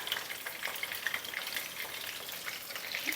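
Chicken frames with garlic and pepper deep-frying in hot oil give a steady, crackling sizzle with scattered pops throughout, fairly quiet and continuous.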